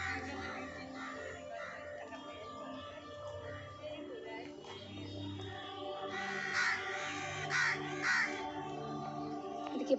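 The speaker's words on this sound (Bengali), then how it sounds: "এদিকে পাখিরা কিচিরমিচির করছে" Crows caw several times in a botanical garden, the harsh calls clustering toward the end over a soft bed of ambient birdsong and distant background sound.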